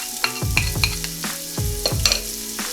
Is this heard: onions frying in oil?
yes